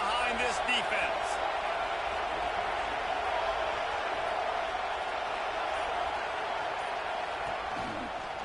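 A stadium crowd at a Clemson football game roars in a steady, distant wash of cheering that holds throughout, with a commentator talking over it.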